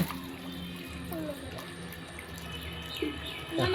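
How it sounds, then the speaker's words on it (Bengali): Water and small live fish pour out of a section of pipe onto the ground outdoors, a continuous splashing gush with a few louder sloshes near the end, no voices. "মাছগুলো এখন আমি এখানে মাটিতে ঢেলে দিব"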